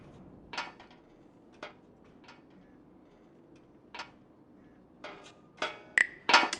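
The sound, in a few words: prying a screw loose by hand, from video game Frequency Missing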